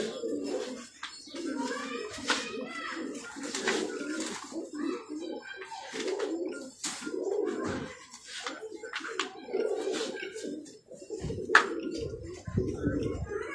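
Round-chested pigeons coo in low, rolling bursts throughout, close and steady, with people talking over them and occasional sharper bird calls.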